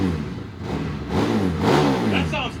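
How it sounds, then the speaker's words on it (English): Custom SEMA show car engine revving at a 2025 show sound-off, rising and falling in loud bursts close by, with people talking over it. "So Victor wants to do a sound off with the R-Bath."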